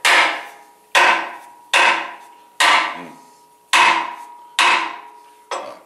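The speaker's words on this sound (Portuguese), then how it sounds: "Conforme você vai batendo aqui, ele vai entrando na madeira." A wooden handle is struck hard onto a wood-turning chisel: seven sharp, evenly spaced hammer blows, each ringing briefly and decaying, close and loud with no voices.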